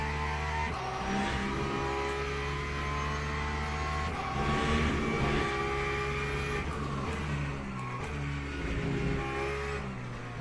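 Race car engine screaming around the Paul Ricard circuit in a sim racing game in rain conditions, loud steady high-pitched revving with rises and dips as it accelerates and shifts, continuous throughout without talk.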